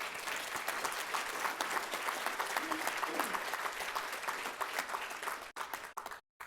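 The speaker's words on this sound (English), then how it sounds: "How about a round of applause for those?" An audience at a tissue donation heroes celebration applauds the donors, a steady, moderately loud round of many hands clapping that fades and breaks off near the end.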